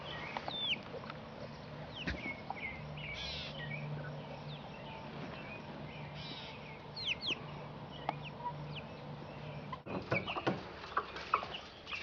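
Young chickens and turkeys kept in a box in a garage cluck and chirp softly and continuously, small calls scattered over a low hum with a few brief knocks.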